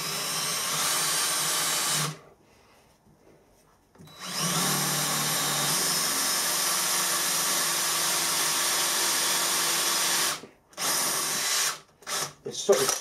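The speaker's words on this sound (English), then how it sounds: "Sort of soft cast iron, so it drills quite easily." A power drill on a mini mill bores into soft cast iron with cutting oil, giving a loud, steady whine. The whine stops, runs again for several seconds and ends in a few short bursts.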